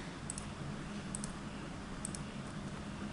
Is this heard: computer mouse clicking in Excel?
yes